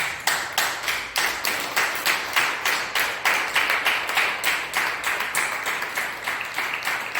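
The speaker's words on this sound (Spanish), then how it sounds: "Denle un aplauso a Dios." Applause at a Spanish-language Christian church service: a steady, rhythmic run of claps from a crowd, evenly paced and sustained, with no talking over it.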